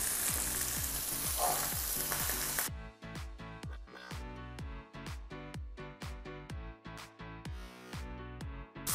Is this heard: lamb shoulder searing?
yes